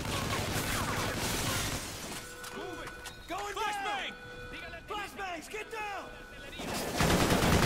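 Gunfire in the Call of Duty: Ghosts video game, bursts of rapid shots and impacts of moderate loudness, mixed with someone talking over the game.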